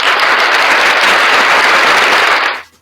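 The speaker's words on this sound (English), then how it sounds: "Let's get them a round of applause real quick" A burst of dense, crackling applause welcoming new members, loud and even for about two and a half seconds before cutting off abruptly.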